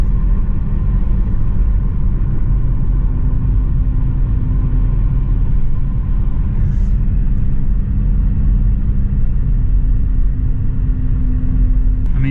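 A steady, loud low rumble of a Pontiac G5 driving on the road, continuous engine and road noise heard from inside the car with no breaks.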